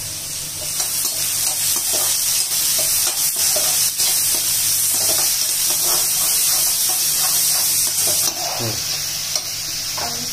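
Bell pepper sizzles steadily in a hot pan while being stir-fried for poha, giving a loud, continuous hiss and crackle, with occasional scraping from stirring close by.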